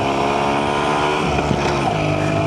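WSK motorcycle engine running steadily and loudly up close, a continuous harsh drone with a rough tone after being ridden through mud and muck in a field.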